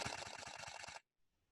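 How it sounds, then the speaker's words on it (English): A Canon R5 or R6 fires its full mechanical shutter in a fast burst, about nine crisp clicks in roughly a second, close and distinct, then stopping abruptly into near silence. "And then the full mechanical sounds like this."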